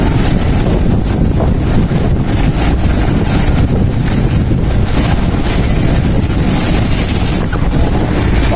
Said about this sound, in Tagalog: Mahirap pagtanaw ng buya kapag ganito malalaki ang alon